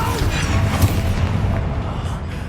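The Bombarda explosion spell goes off in Hogwarts Legacy as a heavy, deep, rumbling boom that swells early and keeps rolling for a couple of seconds, close and loud.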